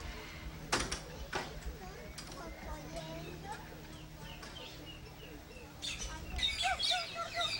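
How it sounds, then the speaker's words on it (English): Birds chirp and tweet in short scattered calls at a moderate distance, mixed with faint background murmur and a few knocks, growing busier toward the end. "great bird sounds"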